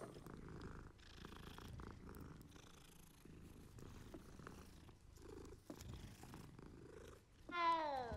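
Cats purr in the Hogwarts Legacy video game, a soft continuous rumbling purr with faint game ambience and a brief rising chirp near the end.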